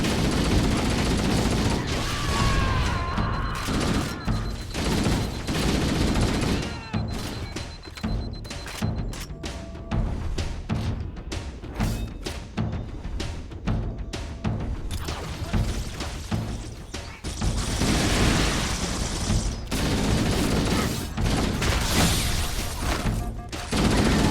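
Rapid gunfire bursts from a shooting video game, loud and dense, with repeated sharp shots and thuds across most of the stretch and a continuous busy game soundscape underneath.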